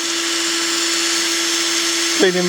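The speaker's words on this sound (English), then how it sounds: "Set up a bench wire wheel for cleaning the" A bench wire wheel motor runs with a steady whine for cleaning Toyota Mk2 Supra cam cover bolts, then the tone shifts abruptly near the end as a part is pressed against the wheel.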